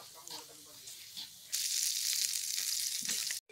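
Shrimp stir-fried in a pan at a fishing camp, starting with faint scraping and stirring, then breaking into a loud, steady sizzle that holds for about two seconds before a brief cutoff.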